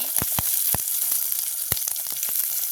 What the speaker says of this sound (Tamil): இப்படியே நாங்கள் வெட்டி வச்சிருக்கிற சின்ன வெங்காயத்தையும் போடுவோம் அதோட உள்ளி